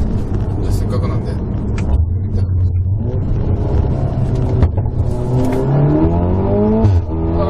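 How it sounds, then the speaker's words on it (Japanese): Volkswagen Golf R 7.5 Performance with an Akrapovic exhaust and flaps open in race mode, revving repeatedly with rising and falling engine pitch and rumbling pops, loud and close, while someone talks over it. "マフラーのアクラポビッチの音がやっぱ気になるんで、ちょっと聞いてみましょうね"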